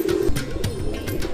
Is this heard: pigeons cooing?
yes